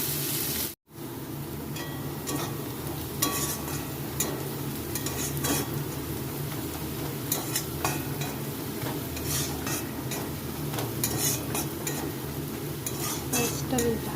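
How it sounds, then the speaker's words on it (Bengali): Onions sizzle in oil in a pressure cooker while a spoon stirs and scrapes them, making a constant frying hiss broken by frequent metallic clicks and scrapes, all close by after a brief silent gap near the start. "পেঁয়াজটা এখন ভাজা হবে"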